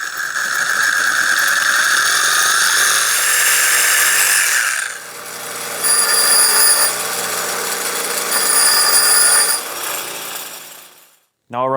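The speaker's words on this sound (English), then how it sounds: "I'm gonna cut about 1/4 of an inch off. Use the good old Milwaukee Sawzall." Milwaukee Sawzall reciprocating saw cutting about a quarter inch off a threaded shaft on a Yamaha Blaster build, a loud steady buzzing cut for several seconds that pauses, resumes in bursts, then stops.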